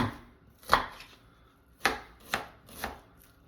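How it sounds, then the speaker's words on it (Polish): A knife chops small onions into dice on a board, sounding as four or five distinct, fairly loud knocks spaced irregularly, with quiet pauses between them and no talking. "Cebulę kroję w kostkę."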